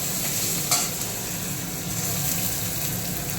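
Onion frying with mustard seeds and curry leaves in a pan, a steady, dense close sizzle with a faint clink early on, continuous throughout.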